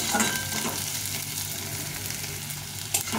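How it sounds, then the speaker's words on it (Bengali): Onions frying in a pan until reddish, a loud continuous sizzle with stirring scrapes throughout, close and steady, no voices. "পেঁয়াজটাকে ভালো করে ভেজে নিতে হবে, একটু লাল লাল করে ভেজে নেব।"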